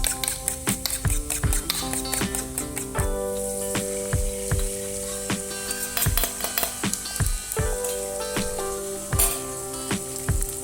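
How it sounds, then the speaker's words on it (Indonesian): Beaten eggs poured into a pan of sautéed onions, a loud steady sizzle of frying with clinks of a utensil against the pan throughout, no talking. "ini bisa kita masukkan telur yang sudah kita kocok tadi"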